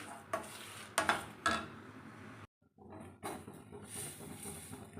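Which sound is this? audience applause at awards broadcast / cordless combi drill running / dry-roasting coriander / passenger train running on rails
dry-roasting coriander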